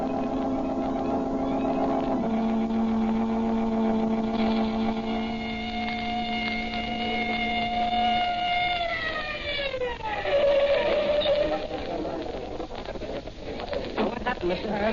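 Police car siren wailing in a steady tone, then sweeping down and shifting pitch, with an engine rumbling underneath; a classic radio crime drama sound effect, loud and continuous with no speech.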